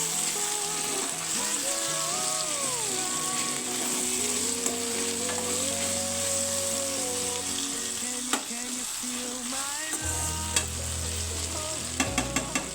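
Ivy gourd frying in a pan for a chutney, a constant sizzle with stirring scrapes and a few clinks, while a tonal background hum drifts underneath.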